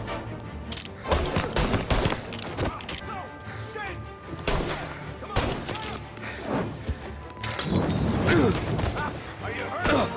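Gunfire in the video game Mafia: Definitive Edition, a rapid string of loud, close shots and sharp cracks with clattering impacts throughout, mixed with game voices shouting over the firefight.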